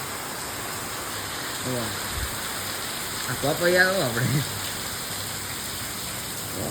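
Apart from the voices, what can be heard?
heavy rain falling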